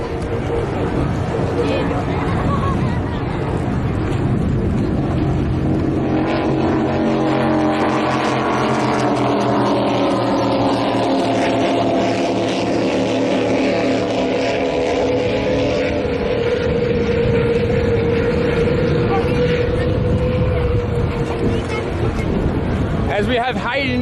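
Racing powerboat on the Manning River at Taree thundering past at speed, its loud engine roar rising and sweeping in pitch, with a commentator talking over it throughout.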